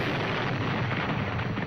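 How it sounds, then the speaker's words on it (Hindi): A bomb explosion sounds as one loud, sustained blast that roars and rumbles continuously through the short clip, with no talking. "ये लो लगा दिया बम।"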